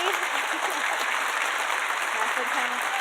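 A conference audience at an opening keynote gives sustained applause for the speaker Lori, a dense, even wash of clapping with faint voices murmuring underneath.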